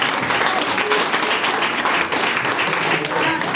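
A seated audience at a product training session breaks into sustained applause, dense clapping from many hands filling the room continuously without a pause.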